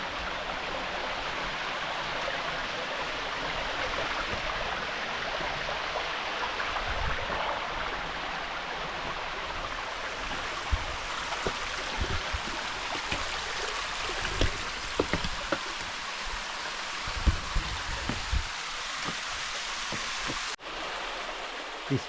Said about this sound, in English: This tributary's got some okay flow as well